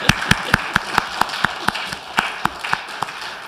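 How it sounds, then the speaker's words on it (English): A small audience claps for a cello and piano duo, a sparse round of distinct, evenly spaced claps that sounds like only a few people, close and fairly loud. "give them one more round of applause."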